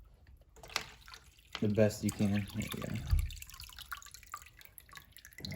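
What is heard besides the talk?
water poured into aquarium filter to prime it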